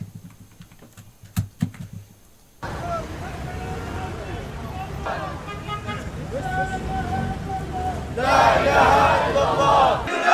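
A crowd of Palestinians at a funeral chants slogans against Israel in a loud, continuous mass of voices, preceded by a few sharp knocks and quieter background noise.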